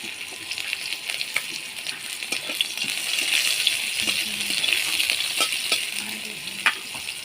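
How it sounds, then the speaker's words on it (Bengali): Bitter gourd frying in mustard oil in a wok, a steady, bright sizzle with occasional crackles and light stirring clinks, close and continuous throughout. "প্রথমে উচ্ছেগুলো ভেজে নেব।"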